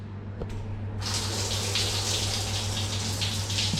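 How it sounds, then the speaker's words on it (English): A bidet in a hotel bathroom bursts into a strong, steady hissing spray after a brief click, water jetting continuously and loudly up close, with no voices. "A bidet."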